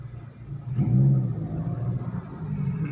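A 2005 Toyota Innova with a manual petrol engine creeps along slowly with the clutch half-engaged. Its low engine rumble swells briefly, then settles into a steady drone throughout.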